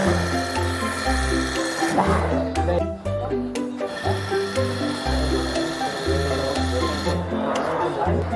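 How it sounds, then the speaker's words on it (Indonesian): Industrial sewing machine stitching jersey fabric in a busy garment factory, its motor whirring in rhythmic bursts that start and stop repeatedly with mechanical clatter close by, amid steady factory background noise. "ini adalah proses penjahitan setelah tadi sudah digunting dan sudah dipotong ya, teman-teman, secara rapi, dan ini sedang dijahit"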